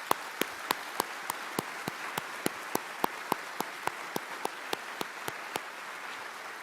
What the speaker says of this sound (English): Let's give them all an applause.